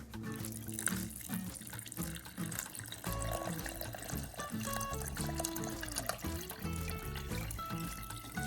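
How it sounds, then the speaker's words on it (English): Water pours steadily into a pressure cooker, a continuous splashing trickle with light clinks, fairly close and quiet. "Then I'm going to add 4 cups of water."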